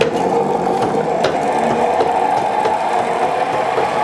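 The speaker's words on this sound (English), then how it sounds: "once this thing gets turning, man, it really turns and just keeps turning even when I'm not stepping on the treadle pedal" A treadle lathe's drive shaft keeps spinning on its own momentum, giving a steady mechanical whir with a faint rhythmic knock as it turns, close and even throughout.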